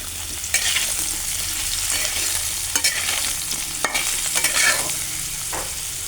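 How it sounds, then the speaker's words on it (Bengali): Potatoes fry in oil with a steady close sizzle, while a utensil stirs and scrapes the pan now and then. "আলু লাল করে ভেজে উঠিয়ে নেব"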